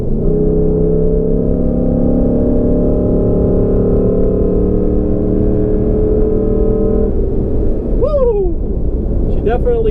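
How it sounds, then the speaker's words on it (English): A Ford EcoBoost V6 truck on Nitto Terra Grappler tires accelerates hard, its exhaust holding a steady loud droning roar for several seconds before easing off, with brief bursts of voice near the end. "it definitely wakes up and it gets quite a bit louder when you step on it"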